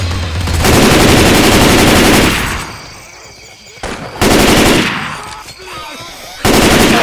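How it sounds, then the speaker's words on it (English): Assault rifle fire from the Left 4 Dead 2 video game comes in long, loud sustained automatic bursts, three of them, separated by quieter gaps with faint game ambience. "Assault rifle."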